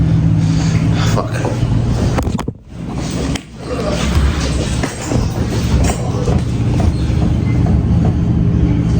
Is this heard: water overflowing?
no